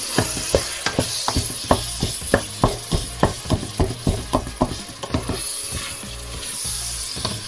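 Ground meat sizzling in a hot pan for a bolognese sauce, with a steady loud frying hiss broken by a regular run of sharp scraping strokes as it is stirred and turned, close and without talk.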